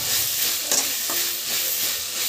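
Dry fish being fried in a pan without salt, a loud, steady hissing sizzle close up with a couple of brief utensil knocks, no talking.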